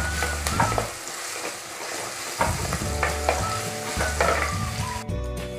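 Crushed ginger and garlic fry in hot oil in a pan, a bright crackling sizzle punctuated by repeated spoon scrapes and stirring knocks, close and lively.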